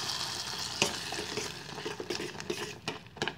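Roasted dry fruits are stirred into jaggery rice kheer cooking in a pot, soft sizzling under a series of spoon scrapes and light clinks, close and steady with no talking.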